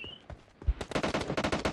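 Gunfire in the battle royale game PUBG, a short silence broken by a single heavy shot, then a fast, loud burst of automatic fire close by, with no talking.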